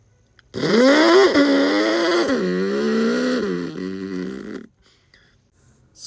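A person vocally imitating a McLaren supercar launch at a car show, a buzzy droning engine-like voice rising in pitch, wavering and holding for about four seconds before cutting off abruptly.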